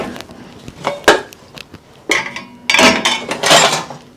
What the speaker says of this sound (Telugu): ఈ చిన్న చిన్న గిన్నెలన్నీ పైన బోర్లేస్తున్నా